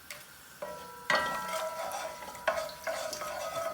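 Whole cardamom pods and bay leaves dropped into hot oil in a pan for a Bangladeshi okra chicken curry, with several distinct sharp crackles and sizzles landing one after another, close and fairly quiet.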